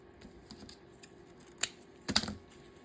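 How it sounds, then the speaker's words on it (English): Scissors cutting through a length of fabric in half, a few crisp snips and rustles close by, faint and brief against a quiet room. "I'm going to cut it in half."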